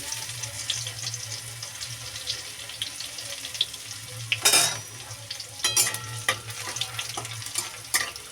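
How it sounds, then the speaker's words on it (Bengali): Crushed garlic cloves hit a hot oiled pan and fry with a steady sizzle, then a louder burst of hissing as they land, followed by stirring and scraping clatter over a low background hum. "এবার দিয়ে দেবো রসুন"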